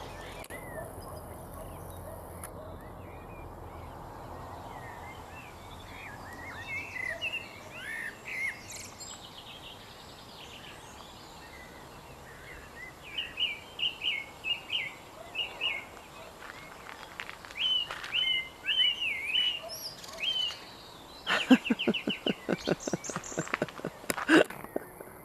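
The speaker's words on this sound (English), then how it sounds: "I want some of what those birds are on, because they just don't seem to sleep. Oh, that's the little blackbird," Small blackbird singing at dusk over a quiet outdoor background, its fluting phrases and chirps coming in scattered bursts that grow busier toward the end, moderately near and alone.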